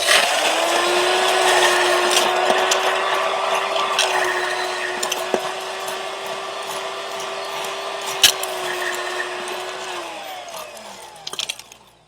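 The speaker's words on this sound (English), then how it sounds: "It says blend for 10 seconds," A blender whirs steadily for about ten seconds while mixing a cocktail for a Mai Tai-style tiki drink, a loud, even motor drone that winds down at the end, with no talking.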